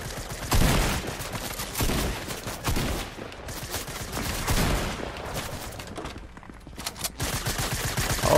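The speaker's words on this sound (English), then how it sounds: "There's obviously somebody trying to shoot at me." Gunfire in the video game Fortnite, a steady run of rapid shots crackling through the whole stretch at moderate level, with game noise and almost no talk.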